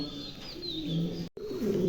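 Mondi pigeons, a high-quality breed, cooing close by in a steady series of low, throaty coos, with faint higher chirps.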